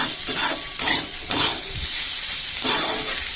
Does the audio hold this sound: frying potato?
yes